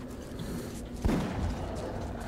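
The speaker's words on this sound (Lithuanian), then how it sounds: "Kažkas šaudo juos." Gunfire in Metro 2033 Redux, a muffled distant shot or thud standing out once midway over a low droning ambience, fairly faint and without talking.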